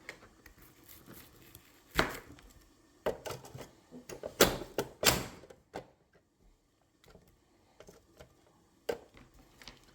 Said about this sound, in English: let me finish chopping this up